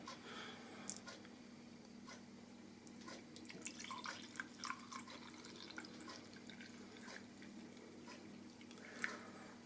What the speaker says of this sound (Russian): наливаем кофе